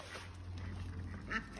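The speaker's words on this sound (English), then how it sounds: "Silly ducks." Ducks quack a few times near a farm road during barley carting, brief calls over steady low machinery rumble, with a louder call toward the end.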